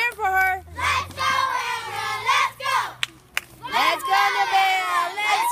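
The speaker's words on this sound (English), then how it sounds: "Support each other. Cheer for her." A group of people and children cheer and shout encouragement for a girl bobbing for apples, with loud bursts of voices and a break in the middle before the cheering rises again.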